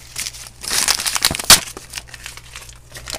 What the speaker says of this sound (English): So I finally got the paper just about off.